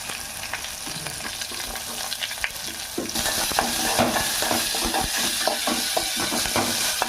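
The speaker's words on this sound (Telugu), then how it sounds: "ఉల్లిపాయలు వేసుకున్నాం." Sliced onions fry in a hot pan with ginger-garlic paste for a spicy dhaba-style egg tomato curry, a close steady sizzle that jumps louder partway through, with stirring scrapes throughout.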